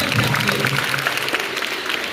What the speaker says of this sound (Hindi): जो जिनके लिए जोरदार तालियां हो जाए